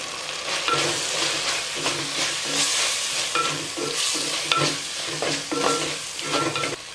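Onion, tomato and spices for sardine curry fry in a pan, a constant sizzle broken by repeated close scraping strokes of a spoon or spatula, loud and near, with no one speaking.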